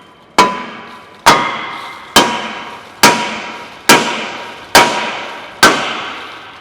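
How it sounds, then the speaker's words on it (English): Seven evenly spaced hammer blows strike a rear brake rotor being removed from a car. Each is a sharp, loud metallic clang with a short ringing decay, heard up close with no voices. "You can see I hit the rotor"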